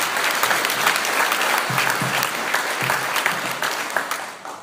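An audience applauds at a Scottish independence rally in Cowal, a steady, fairly loud wash of many hands clapping indoors for several seconds, with a voice briefly heard under it.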